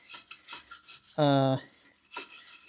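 A stiff brush scrapes in short rasping strokes across a rusty wheel hub on a Tesla Model Y, with a few dry rubs and one longer grating pass in the middle.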